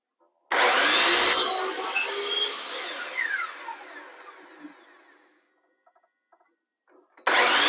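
A power tool bores holes in wood through blue tape, a loud close whine that spins down and fades over several seconds, followed by small clicks and a second burst starting at the end.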